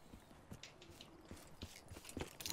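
Footsteps in the video game Black Ops III, a series of quick, fairly faint steps that build in loudness toward the end, with no talk over them.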